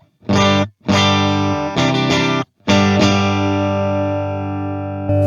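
Electric guitar chords through the clean channel and cabinet of the Overloud TH-U amp simulator ring out clean and bright in several short strummed bursts, the last one sustaining and slowly fading.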